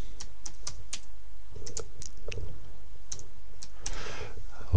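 Rapid keystrokes on a computer keyboard while setting up an Android development environment in Eclipse, irregular bursts of close, crisp clicks with short pauses between them, no voices.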